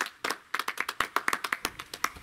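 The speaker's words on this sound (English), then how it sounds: "I think we can all give Mr. Keith a round of applause for winning top prize at the Rasta event." Applause for a koi breeder who won top prize at a koi show: a short burst of fairly close hand clapping, a dozen or so sharp, evenly spaced claps from a small group, with no talk over it.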